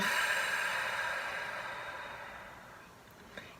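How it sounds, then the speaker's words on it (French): A slow, deep exhale through the mouth during a yoga breathing exercise, a long airy breath that starts fairly loud and gradually fades over a few seconds, heard close and alone. "Et à chaque expiration, on dégonfle le ventre. On sort tout l'air."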